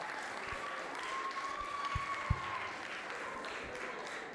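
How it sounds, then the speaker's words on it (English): Audience applause at a school reading awards celebration after a performance, a moderate wash of many hands clapping, steady and somewhat distant with a few louder claps near the front. "Please, let's clap for them."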